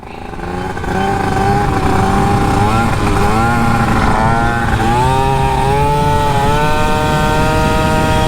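A 50cc Honda Pop-style small motorcycle rolls downhill on a mountain road to Doi Ang Khang, its small engine holding a steady, close, continuous buzz with shifting pitch throughout.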